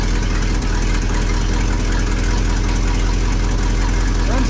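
An old V8 farm truck idles with a cracked exhaust manifold leaking, a steady, close, loud rumble with a rapid ticking pulse running through the whole stretch.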